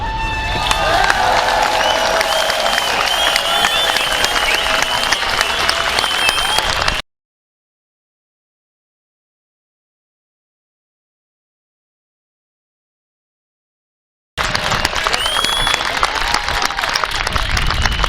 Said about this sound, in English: And now I'd like an even bigger hand for the alternative media.